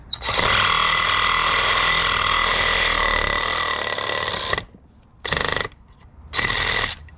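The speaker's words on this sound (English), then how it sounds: "I got this small Sawzall right here, put this in here, and I'm gonna start hacking away at this inside piece" A small Sawzall reciprocating saw hacks at the inner piece of a differential bushing on a BMW E36 rear differential, with a loud, close, buzzing run of about four seconds followed by two shorter bursts.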